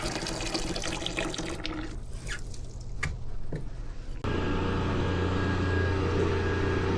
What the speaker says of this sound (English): Dumped out, got new water.